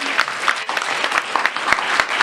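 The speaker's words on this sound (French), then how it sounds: "On applaudit." Audience at a film festival screening clapping in a warm burst of applause, many hands close by, steady and lively throughout with no voices on top.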